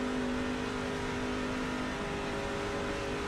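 The engine of a damaged race truck in the iRacing video game drones loudly and steadily at high revs, a continuous buzzing tone with no break and no voices.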